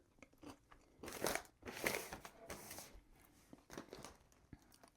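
Close, loud crunching of Trader Joe's ghost pepper lattice-cut kettle-cooked potato chips, a few clustered bites followed by brittle chewing bursts, with no voices.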